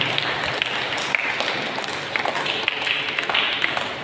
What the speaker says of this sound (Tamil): அந்த பெரியவர்கள் கைத்தட்டி நம்முடைய பாராட்டுகளை தெரிவிக்கிறாங்க.